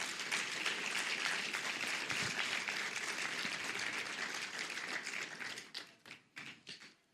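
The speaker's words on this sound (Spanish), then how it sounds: "Denle un fuerte aplauso a Dios." Church congregation applauding together in a dense, sustained burst of clapping that thins into scattered separate claps toward the end.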